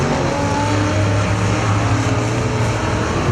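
A figure-8 race car engine running at a dirt speedway after a restart, a loud steady droning roar with low rumbling tones that holds evenly throughout, no voices.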